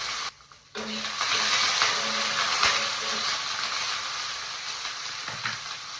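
Brinjal (eggplant) pieces frying in a pan, a loud continuous hissing sizzle that rises sharply after a brief quiet moment and holds steady, close to the pan.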